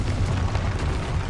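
The Confringo blasting spell goes off in the Hogwarts Legacy video game as a loud, dense explosive roar, held steady for just over a second with heavy low rumble, and no voices over it.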